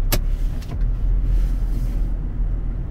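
Toyota Land Cruiser engine held on a steep 30-degree slope with the handbrake on, revving up gently: a steady, loud low rumble that swells slightly after a brief clack at the start.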